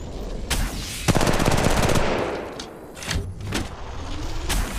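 Rapid automatic gunfire from Apex Legends Mobile rattles in close, loud bursts, mixed with game effects and a brief pause before more firing.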